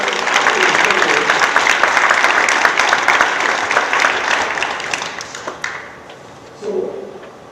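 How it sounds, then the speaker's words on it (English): Broad sustained applause from a large graduation ceremony audience, loud and steady for about six seconds before thinning out, with a brief burst of voices near the end. "Ladies and gentlemen, a round of applause."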